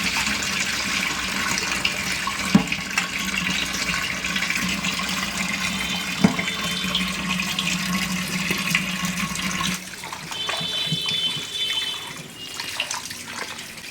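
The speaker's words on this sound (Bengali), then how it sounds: "এই যে মাংস এখন ধুচ্ছি।" Raw meat is rinsed under a running tap, water splashing steadily and close for several seconds before the flow changes and thins into lighter trickling and dripping.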